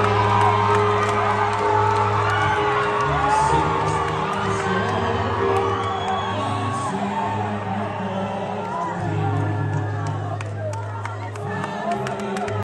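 A big outdoor crowd in Kenya cheers and whoops, excited shouts and calls rising over a steady hum of many voices, loud and continuous throughout.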